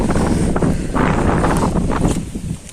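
Strong, steady wind buffets the microphone on top of Salher Fort, a mountain fort in Maharashtra, a loud continuous roar with gusting swells and no pauses.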